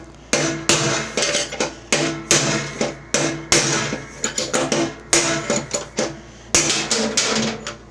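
Sharp metallic hammer blows on a punch drive bearings out of a riding mower hub, about twenty close ringing strikes in uneven bursts with brief pauses between sets.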